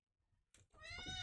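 A domestic cat gives a single drawn-out meow that rises clearly out of near silence after a few soft rustles, close and moderately loud in a quiet room.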